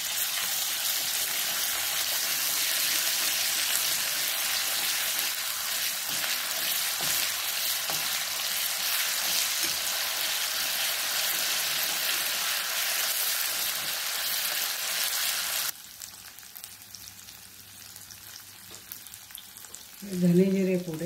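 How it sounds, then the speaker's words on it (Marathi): Homemade ginger-garlic paste sizzles loudly and steadily in a hot pan, a dense frying hiss that drops away abruptly near the end, leaving quieter crackles before a short clatter. "आलं लसूण घरी केलेलं आहे. छान परतून घ्यायचं आपण."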